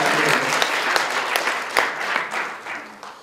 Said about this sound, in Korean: 우리 서로 한번 박수 한번